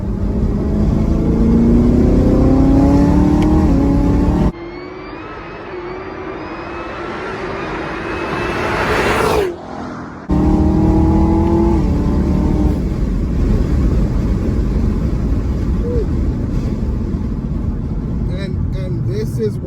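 A 2017 Chevrolet Camaro ZL1 engine pulls hard under acceleration in sixth gear, a loud, sustained rising roar heard from inside the car, with a brief dip midway as it shifts or lifts.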